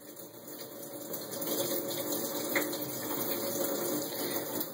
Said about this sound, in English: And agitating means, again, I gently swirl them around